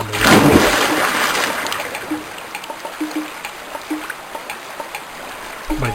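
Flowing water in a homebrew N64 and Dreamcast game level, a steady soft stream and trickle with a splashy burst at the start, then a quiet wash punctuated by small clicks.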